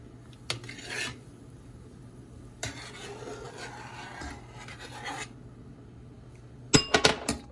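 Dishes and pots clink and rattle in a home kitchen while chicken boils for orzo, with a few scraping bursts and a sharp cluster of clatters near the end, no voices.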